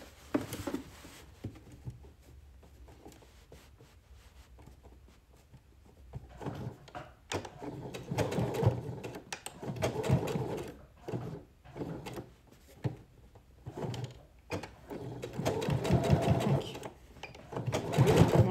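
A sewing machine stitches a garment seam with backstitches, its needle chattering in fast runs that start and stop, with brief pauses and soft handling noises between bursts.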